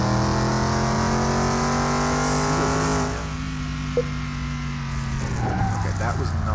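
A van engine idling steadily in Car Mechanic Simulator 2021, a smooth droning hum that holds for several seconds, then drops slightly in level and continues, with a person talking over it.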